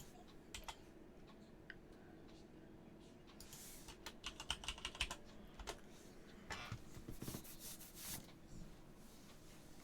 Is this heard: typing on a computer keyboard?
yes